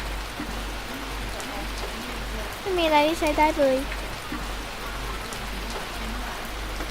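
Heavy rain falls in a steady, even hiss throughout, while a voice speaks briefly over it near the middle.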